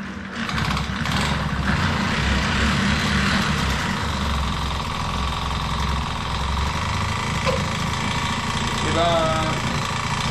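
A 1977 Peugeot 103 moped with electronic ignition fires up and settles into a steady buzzing idle, close and continuous, with a person briefly talking over it.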